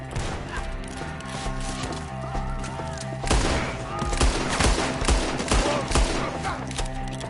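Gunfire from a Red Dead Redemption 2 battle: repeated loud gunshots and bursts over game music, growing denser in the second half.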